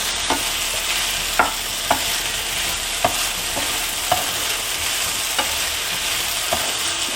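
Raw banana pieces tossed with rock salt are stirred in a sizzling frying pan, with a steady fry hiss broken by regular scraping strokes of the spoon about every half second.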